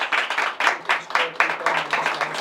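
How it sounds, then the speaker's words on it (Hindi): A short run of rhythmic hand clapping, about a dozen crisp claps in a steady pattern, sounds from close by. "तालियां।"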